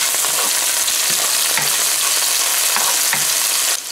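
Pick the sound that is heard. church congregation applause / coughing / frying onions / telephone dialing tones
frying onions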